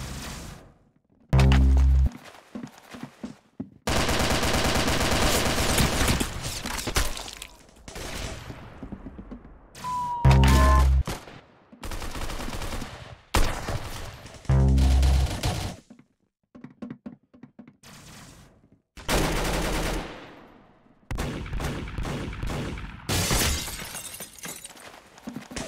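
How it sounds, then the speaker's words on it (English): Gunfire in a shooting video game: loud bursts of rapid shots and sharp single blasts, separated by brief silences, with shattering impacts mixed in. "That's some beautiful shooting right there."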